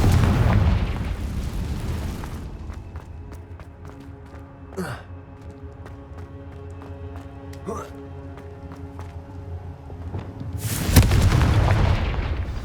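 In Hogwarts Legacy, a Confringo fire spell goes off with booming blasts at the start and near the end, framing a quieter stretch of game ambience and effects, with a voice talking over it.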